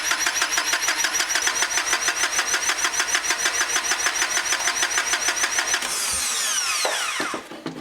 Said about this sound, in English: a battery of that capacity is able to maintain a pretty healthy voltage and keep the engine cranking